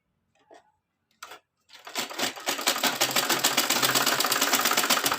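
A sewing machine stitching the folded hem of a katori blouse: a few faint taps, then the motor starts and runs a steady fast needle rhythm, close and continuous, without talk.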